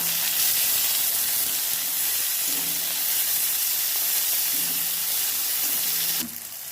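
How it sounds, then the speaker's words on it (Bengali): Chopped tomato fries in a pan over already-fried onion for a Bengali fig curry, giving a steady close sizzle and hiss that drops off abruptly at the end. "টমেটো দিলো এটাকে আমি ভেজে নেব"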